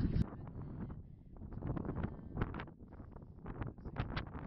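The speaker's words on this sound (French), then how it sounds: "le vent s'est levé" Wind gusts buffet the microphone on a GR70 hiking trail as a storm approaches, a loud continuous rumbling roar that swells and eases throughout.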